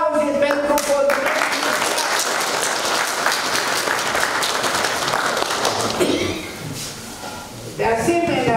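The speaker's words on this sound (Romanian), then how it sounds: "aplauze pentru poduri" Applause fills a council hall during the swearing-in of a new mayor in Poduri, sustained and dense for several seconds before thinning out, then swelling again near the end, with voices mixed in.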